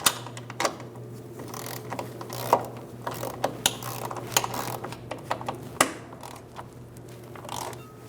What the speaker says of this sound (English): Snug down the nuts, get them nice and tight.